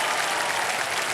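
A television quiz-show studio audience bursts into thick, sustained applause to welcome four stand-up comedians. The burst is brief and loud, with the crowd clapping at an even level throughout.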